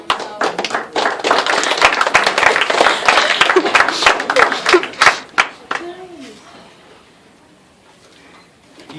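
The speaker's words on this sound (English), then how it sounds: "Do you hear how much clapping there was?" Audience clapping at a debate about which Lee brother is better, dense and loud for about five seconds, then thinning to scattered claps and fading into quiet, with a voice speaking near the end.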